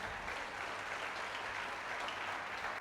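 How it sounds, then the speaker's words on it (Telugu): A church congregation claps loudly and steadily during a worship service, a dense continuous wash of hand claps with no voices on top. "చప్పట్లు కొట్టండి గట్టిగా"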